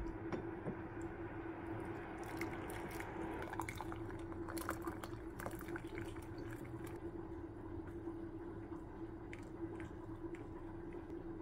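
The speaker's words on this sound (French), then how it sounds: "je mets dans ma tasse et j'ajoute de l'eau chaude" Hot water poured into a tea cup: a faint trickle with small scattered drips and clinks, quiet and close over a steady low hum.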